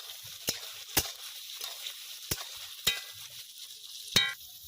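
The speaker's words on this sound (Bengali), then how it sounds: "তেলটা গরম হয়ে গেছে, ওর মধ্যে দিয়ে দেবো সয়াবিনগুলো, ভালো করে ভেজে নেব" Soya chunks fry in hot white oil in a wok, a faint steady sizzle broken by about five sharp clicks and scrapes of a spatula at irregular intervals.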